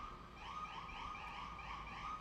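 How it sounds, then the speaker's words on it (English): An ambulance siren wails in a repeating rising-falling cycle, steady and moderately loud, heard from indoors as it passes by, with no talking over it. "there's an ambulance going by"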